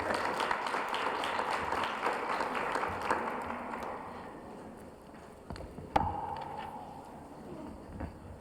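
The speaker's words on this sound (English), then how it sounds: "And it's okay to clap." At a community forum, an audience applauds moderately for a few seconds, then the clapping thins out. Scattered taps and a sharp knock follow in a quieter room.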